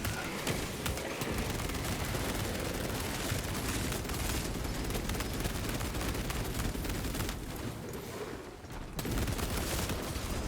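Bolter gunfire in a Warhammer 40k video game, a dense, relentless barrage of rapid shots and explosions, loud and near, with a brief dip near the end before the firing resumes.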